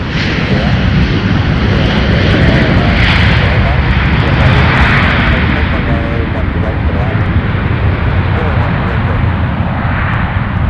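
A Delta Boeing 737-900ER jet arrives at Minneapolis–St. Paul airport with a loud, continuous engine roar and rushing air that holds steady throughout, with a voice talking over it.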